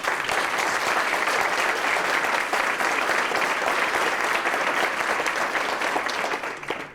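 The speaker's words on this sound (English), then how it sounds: "please give the guys a round of applause" A room of people applauding at a veterans' court graduation ceremony, a full, even wash of clapping that holds steady for several seconds before tapering at the end.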